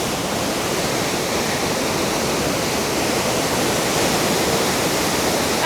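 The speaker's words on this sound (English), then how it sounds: "I think we're about to walk through like a waterfall." A waterfall on a trail at Iguazu Falls roars up close as a dense, steady rush of falling water that fills the whole scene without pause.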